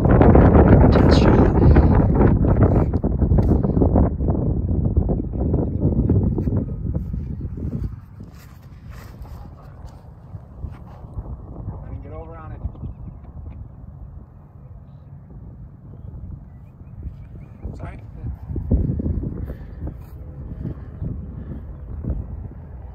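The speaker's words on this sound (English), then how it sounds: "There is some wind" Midwest wind buffets the microphone outdoors at a tennis court, roaring loudly at first and then settling into gusty rumbling, with faint voices and an occasional ball strike beneath it.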